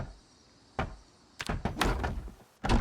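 Doors go into place during a base build in a video game, with an isolated thunk followed by a cluster of wooden knocks and bumps and another solid thud at the end, with no speech.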